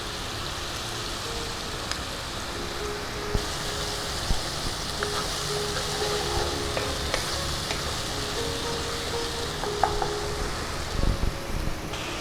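Ginger paste sizzles steadily in hot oil for a Bangladeshi-style rohu fish curry, a constant crackling fry with small pops and occasional stirring clinks.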